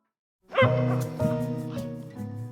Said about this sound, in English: My dear precious pups.